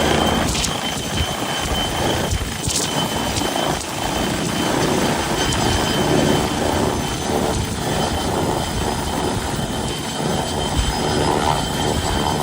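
An MBB BO-105 CBS-5 helicopter runs with a dense, steady roar of engine and rotor, loud and close, holding an even level without pause throughout.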